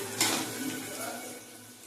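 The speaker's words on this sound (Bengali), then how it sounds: "এবার মাংসগুলি দিয়ে দেবো।" Meat goes into hot spiced oil in a pan for a mutton curry, giving a brief clatter followed by a soft, settling sizzle over under two seconds.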